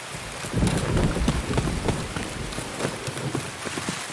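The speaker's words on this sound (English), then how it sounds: "Time of day and rain really help." Steady heavy rain pours in the shooter game Escape from Tarkov, with a low rumble of thunder building early and dense drops hissing throughout, loud and close, no speech.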